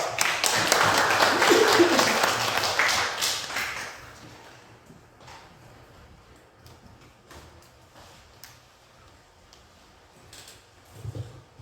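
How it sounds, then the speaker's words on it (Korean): A meeting audience of a mountaineering club claps loudly for about four seconds before the applause fades to quiet room sound with faint shuffles and small knocks. "큰 박수 부탁드립니다."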